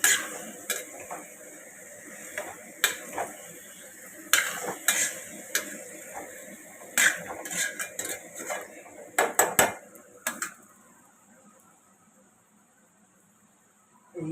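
Chicken being stirred in a pan with a metal spatula, giving repeated sharp scrapes and clinks against the pan over a soft sizzle, busy at first and then fading to quiet near the end.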